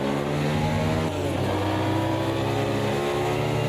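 A race car engine in the Automobilista 2 racing simulator holds a steady, loud mechanical drone and dips briefly as the throttle eases, then builds again. No voices are heard.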